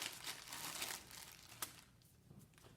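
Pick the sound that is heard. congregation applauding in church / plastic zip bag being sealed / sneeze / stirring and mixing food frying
plastic zip bag being sealed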